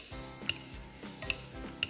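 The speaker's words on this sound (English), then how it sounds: "These actually come in really handy for chopping up eggs." A pastry cutter chops hard-boiled eggs in a kitchen bowl with soft rhythmic thuds, and a bright metallic clink lands about every 0.7 seconds. The sound is close and fairly quiet, and no one talks.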